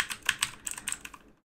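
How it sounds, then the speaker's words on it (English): Computer keyboard keys clatter in quick, irregular bursts of close typing during a Minecraft session, then fall silent. "I know you hear my keyboard. I apologize."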